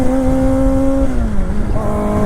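Kawasaki Ninja ZX4R motorcycle engine revving loud and close while changing gears, a sustained high whine that dips in pitch mid-shift and climbs again.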